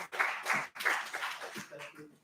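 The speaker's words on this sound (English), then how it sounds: "Round of applause for the young lady." Short bursts of clapping from an audience at a panel discussion, uneven and fairly faint, with a voice speaking near the end.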